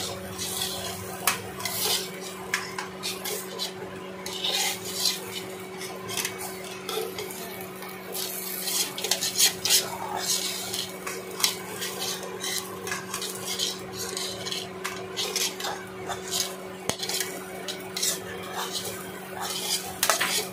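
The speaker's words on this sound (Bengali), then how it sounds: "তারপর ভালো করে নাড়াচাড়া দেবেন।" A utensil stirs food in a pan for a home cooking recipe, giving steady scraping and clinking strokes with occasional louder metallic clanks, close and continuous with no talk.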